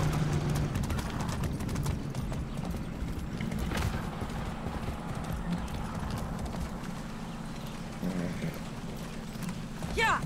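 Horse hooves clip-clopping at a steady riding pace in the video game Far Cry 6, set against continuous game ambience with a brief whinny-like sound near the end; speech is heard faintly in the mix.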